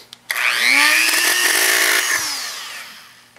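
A Dremel rotary tool cuts into a silicone intake tube for a 2008 Nissan 350Z, giving a loud, close, high-pitched whine that rises as it bites, holds steady for about two seconds, then winds down.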